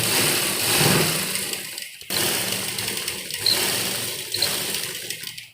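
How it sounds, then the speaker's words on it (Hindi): A sewing machine double-stitches a seam on women's palazzo trousers, running in a steady, close, buzzing whir that pauses briefly and then continues. "और इस सिलाई को भी हम डबल लगाएंगे।"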